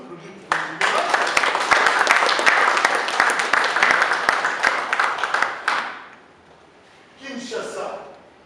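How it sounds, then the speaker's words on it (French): Audience applause at an art exhibition opening, a dense burst of clapping from a crowd lasting about five seconds before fading, followed by a brief softer patter of claps. "Je pense que nous pouvons quand même applaudir pour le gouvernement."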